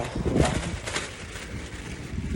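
Strong wind buffets the microphone, producing a continuous, heavy rumbling roar throughout.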